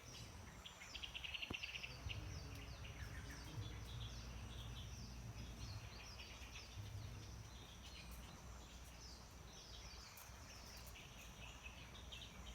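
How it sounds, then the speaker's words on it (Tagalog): Birds chirp and call over a steady bed of insect buzzing and forest ambience, continuous and moderately distant, with no voices. "Yung ingay ng mga ibon po, no?"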